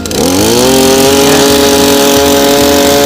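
A small gasoline earth auger engine with an 8-inch soil drill bit revs up hard and holds a steady high-pitched whine, loud and close, with no talking.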